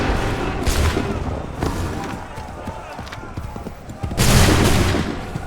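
Musket volleys in Assassin's Creed 3, two loud bursts of overlapping gunshots with booming tails, separated by a stretch of running footsteps and shuffling, with shouted voices around them.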